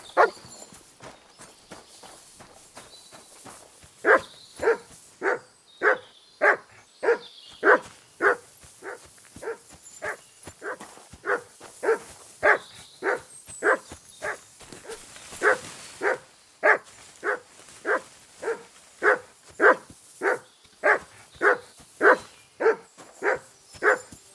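A dog in the video game Kingdom Come: Deliverance II barks steadily and repeatedly, dozens of evenly spaced woofs in a regular rhythm, fairly close and consistent in loudness.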